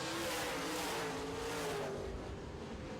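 Modified stock cars roar past at the finish of a dirt-track feature race, a loud, continuous engine drone with a droning tone that fades slightly toward the end, no talking.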